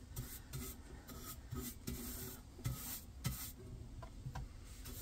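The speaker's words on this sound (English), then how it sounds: "I'm going to go ahead and go over the whole thing with wax to take down the shine a little bit." Wax being rubbed over a decorated milk bucket, giving repeated close, dry scraping and rubbing strokes in a steady back-and-forth rhythm, quiet and alone.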